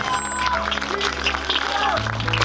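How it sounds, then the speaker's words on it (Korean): At an outdoor campaign rally for candidate Lee Jun-seok, a crowd applauds in a steady wash of clapping, with a low hum underneath and voices mixed in. "네, 여러분 큰 박수 부탁드리겠습니다."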